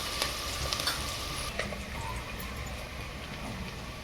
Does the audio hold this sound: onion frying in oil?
yes